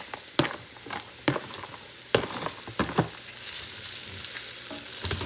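Carrots and broccoli for a Thai vegetable stir fry crackle in a hot pan with a continuous sizzle, broken by sharp utensil knocks and scrapes at irregular intervals, close up and without speech.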